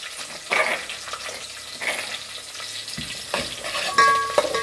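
Curry leaves fry in hot oil in a pan, a close sizzling hiss with bursts of crackle and stirring clatter of a spoon against the pan, fairly loud and uneven.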